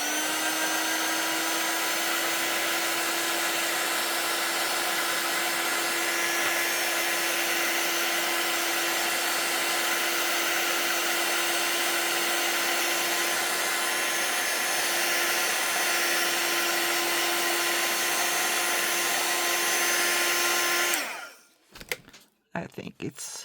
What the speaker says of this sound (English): I'm gonna use a dryer heat tool to dry it